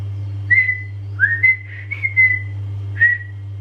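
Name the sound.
whistled imitation of birds' call pattern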